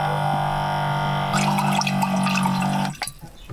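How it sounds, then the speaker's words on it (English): Tap water running steadily into a cooking pot for ramen inside a parked car, a continuous close splashing fill that shifts pitch partway through and then cuts off near the end. "I'm gonna fill it with some water."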